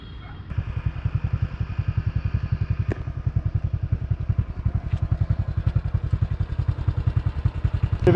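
A motorbike rides a rough mountain road on the Ha Giang Loop in Vietnam, its engine thumping in a fast, steady rhythm, close and loud, with occasional knocks and clatter from the rough surface.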